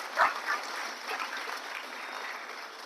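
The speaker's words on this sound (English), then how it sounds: "I think Prof deserves a loud round of applause." Faint, steady applause from a seminar audience after a lecture, thin and distant, with one slightly louder burst near the start before settling into an even patter.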